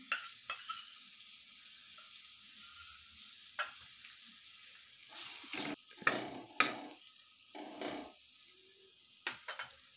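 Ginger garlic paste hits a hot pan for Dhaba-style shahi paneer, giving a steady close sizzle and frying crackle with occasional sharper bursts of stirring and clinks against the pan, no talk.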